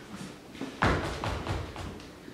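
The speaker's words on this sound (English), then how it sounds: "That's when I heard the knock on the door." Several firm knocks on a wooden door, a heavy thud followed by a quick run of softer raps, close by and without talk.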